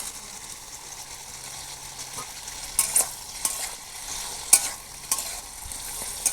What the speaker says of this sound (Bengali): তাই আমি এই সবজিটার সাথে বাদামগুলো ভেজে নিচ্ছি।